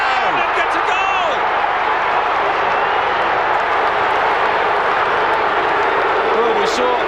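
A stadium crowd at a 1999 AFL match between Melbourne and Fremantle, steady and loud throughout, a dense roar that fits booing from the stands, with faint commentary voices under it.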